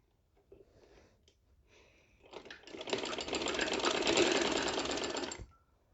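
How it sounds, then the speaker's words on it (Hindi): A sewing machine runs a burst of rough extra stitching across fabric trouser trim, starting with a few soft handling sounds, then a steady close whirring run of about three seconds before stopping. "अब यहाँ पे एक्स्ट्रा रफ स्टिचिंग कर लें।"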